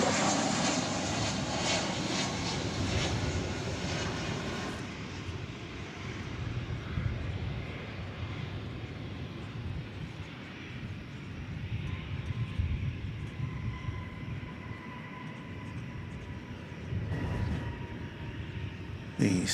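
Airplane at DFW Airport roaring past in a broad jet and engine rush that is loud at first, then settles into a steady rumbling wash with a faint whine, heard from a distance outdoors.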